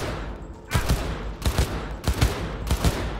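Several loud bursts of gunfire in Cyberpunk 2077, four short volleys spaced roughly half a second apart over a steady background hum, with no talking.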